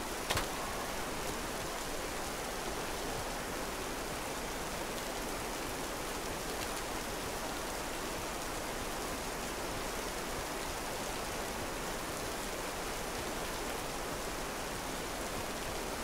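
Rain in the This Land Is My Land game falls as a steady, even hiss from start to finish, continuous and unbroken with no voices over it.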